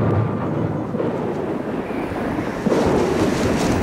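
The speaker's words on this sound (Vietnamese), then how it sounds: "Sao đột nhiên lại có gió lớn quá?" A sudden strong wind sound effect in a Chinese costume drama, a loud roaring gust with a low rumble that swells again near the end.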